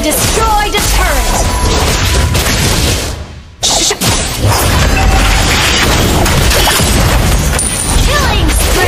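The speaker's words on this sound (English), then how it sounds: "Your team destroyed a turret!" A turret is destroyed in the Mobile Legends mobile game, with loud, dense game effects and booming crashes, a brief near-silent gap, then the busy battle sounds resume.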